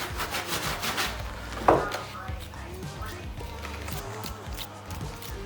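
A towel rubs back and forth over a clean, slightly sticky golf club grip, making close, steady scuffing strokes with one sharper squeaky scrape partway through.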